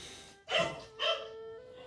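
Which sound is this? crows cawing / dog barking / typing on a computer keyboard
dog barking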